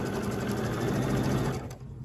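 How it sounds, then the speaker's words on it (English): A sewing machine runs a quarter-inch seam joining scrap quilt pieces, a brief close whirring stitch burst that stops near the end. "We're just going to put this underneath the foot, and I'm just going to start stitching."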